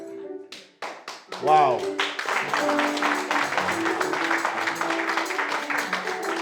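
A church congregation breaks into loud, sustained clapping and cheering after a few isolated taps and an excited exclamation, the applause continuing steadily and close.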